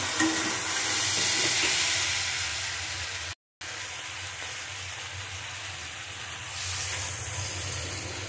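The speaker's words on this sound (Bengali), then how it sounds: "আমার কষানো হয়ে গেছে, এবার জল দিয়ে দেবো।" Water poured into a pan of spiced fish curry with fried ginger gives a steady, loud sizzling hiss that cuts out for a moment near the middle, then carries on evenly.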